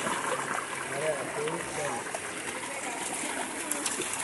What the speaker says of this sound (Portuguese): o Maru tem alma de Golden, que ele não quer sair da água